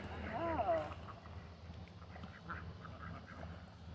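Hungry ducks scramble for chicken scraps at Boomland campground in Charleston, Missouri, with a loud burst of nearby quacking at the start, then scattered softer calls over a low outdoor rumble.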